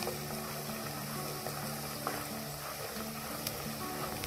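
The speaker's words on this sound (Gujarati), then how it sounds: "પછી એકદમ ચડવા દેવાનું છે આપણે ડુંગળી, ખડા મસાલા અને લસણને" Onions, whole spices, garlic and chilli pieces frying in a pan for Amritsari chole, giving a soft, steady sizzle that holds low and even throughout with faint occasional pops.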